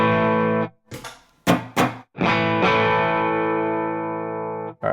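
Electric guitar through a Fractal FM9 Nashville session rig preset with an RC Booster pedal, no overdrive, played close: a few short chord stabs, then long sustained ringing chords with a bright, lightly driven tone.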